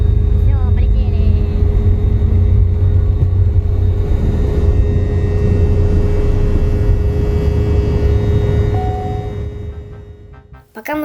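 A passenger airplane taking off, its engines making a loud, sustained roar and deep rumble heard from inside the cabin that stays steady for most of the time and then eases off near the end.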